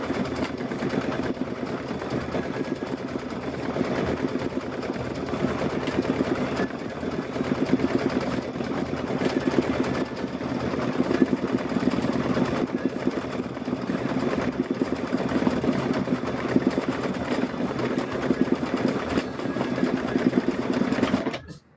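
Embroidery sewing machine stitching a rope project, a fast, even mechanical whir with rapid needle clatter running continuously and close, then stopping abruptly at the end.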